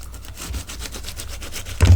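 A bone folder rubs over a paper image to burnish it down in a card-making craft session, giving a steady close scraping and rubbing texture with a louder thump near the end.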